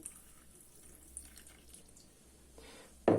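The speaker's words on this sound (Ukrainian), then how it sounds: "Так, додала води." Boiled, cooled water poured into a no-cook breakfast mixture in a home kitchen, a short burst of splashing liquid close by at the very end after quiet room tone.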